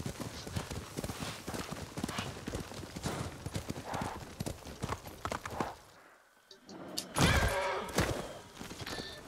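Horse in Ghost of Tsushima: rapid galloping hoofbeats fill the first six seconds, then a short lull and a loud, close whinny near the end.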